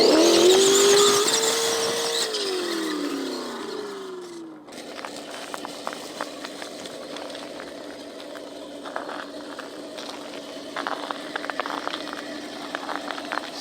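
A simulated engine from a sound kit in a large 1:8 scale Ford F150 RC truck revs high and winds down, then settles into a low rumbling idle with crackling and crunching as it drives over icy ground outdoors.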